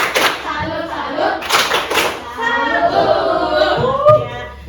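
An elementary school class in Indonesia claps through a rhythmic group clap chant, with bursts of hand claps under and between chanting voices in a lively room.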